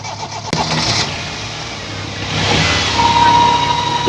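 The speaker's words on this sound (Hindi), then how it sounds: "गाड़ी को हम स्टार्ट कर रहे हैं" Toyota Corolla Indus car engine cranking and catching, a sharp start followed by a settling idle that rises in loudness, with a thin whine appearing near the end.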